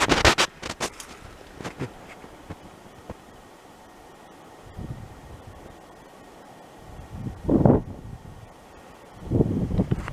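Blustery wind gusts in irregular bursts, each rising and fading against a quiet, hissing background.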